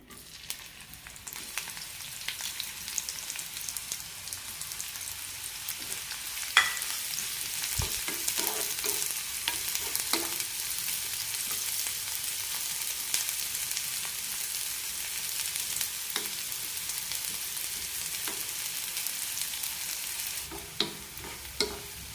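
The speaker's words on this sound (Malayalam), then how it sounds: "പാവയ്ക്കയുടെ കഷ്ണങ്ങളൊന്ന് വറുത്തെടുക്കാം." Steady, crackling sizzle of bitter gourd pieces frying in oil in a pan, continuous throughout with occasional clinks of stirring.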